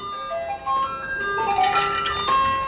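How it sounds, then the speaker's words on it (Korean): A loud electronic bell chime rings out in a bright, repeating melody, filling the room with sustained tones. "벨소리가 우렁차네요."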